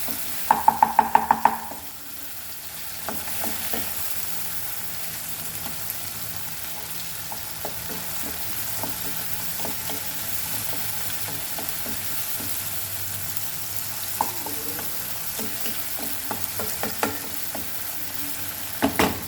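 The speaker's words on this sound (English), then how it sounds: "Let the tomatoes get cooked." Chopped tomatoes cook in a hot pan for a Goan fish curry without coconut, a continuous sizzle broken by repeated scraping and tapping strokes of a spoon, with a brief tonal ringing near the start.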